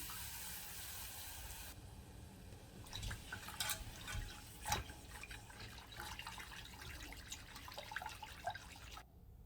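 Milk is poured into a flour and butter roux for béchamel sauce: soft, quiet liquid splashing and bubbling with scattered small clicks and drips, close by and without speech.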